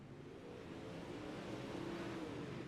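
A race car engine revs and drones steadily as it leaves the pits during a Night in America UMP race at Lanier National Speedway, a continuous, fairly distant roar that swells slightly.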